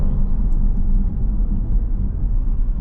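A 2014 Jaguar XK XKR slows during a brake test, heard from inside as a steady, loud low rumble of road and engine noise with no distinct brake squeal and no voices.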